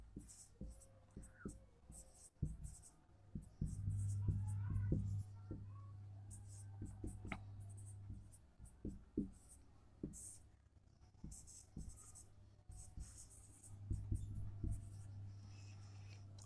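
A teacher writes on a board during a chemistry lesson on carboxylic acids: soft scratchy strokes and taps come in short runs, interleaved with his quiet speech over a steady low hum.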